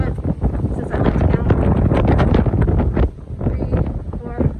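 Strong wind buffets the microphone at the top of Pilgrim Monument in Provincetown as a loud, gusty roar. The roar eases briefly near the end.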